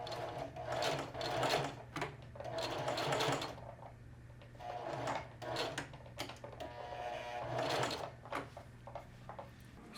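A sewing machine back tacks a seam on denim jeans, whirring in several short bursts of rapid stitching separated by brief pauses, close and clear, with no talking.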